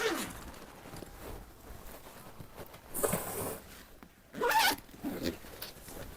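The zipper on a suitcase pocket is opened at a bag market in Quetta, with two brief, quiet zipping pulls a little over a second apart against soft background rustling.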